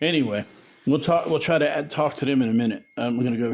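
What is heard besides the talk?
No everyday noise stands out behind the speech.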